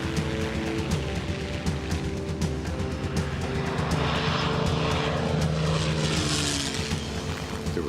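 A P-51 Mustang fighter's piston engine roars at full throttle, a loud, steady droning growl with a rough propeller buzz that holds for several seconds without any talk.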